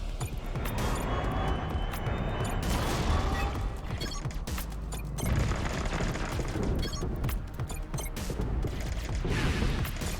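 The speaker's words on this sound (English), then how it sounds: "I can't say I blame them for wanting to fire flak at us" Enemy flak fire in the space strategy game Crying Suns: a continuous barrage of rapid bursts, booms and crackling blasts with mechanical clatter. The fire is dense, loud and unbroken from start to finish.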